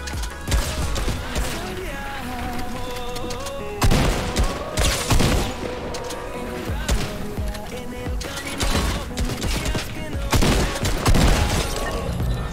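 Legendary assault rifle gunfire in the Fortnite video game comes as dense, rapid bursts of shots layered over game music and effects, loud and continuous throughout.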